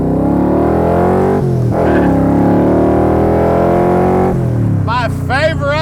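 A 1965 Shelby Cobra built by Superformance roars loudly up close, its engine note rising steadily through the gears with brief shift dips, and a chirpy tire or squeal sound near the end.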